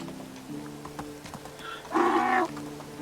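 A donkey in the farming game Medieval Dynasty lets out one short, loud honking bray near the end, after quiet low background hum and faint clip-clop steps.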